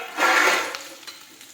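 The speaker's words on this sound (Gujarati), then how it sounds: "હવે આપણે ભીંડો નાખી દઈશું।" Okra drops into hot oil already crackling with mustard seeds and cumin, giving a loud burst of sizzling that eases into a steady, softer fry with light stirring.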